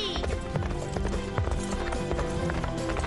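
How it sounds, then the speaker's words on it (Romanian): A horse on a farm in a dubbed cartoon clip-clops with busy, continuous hoofbeats amid a dense mix of sound, with a neigh folded in. "Nechezat? Pare un strigăt de ajutor."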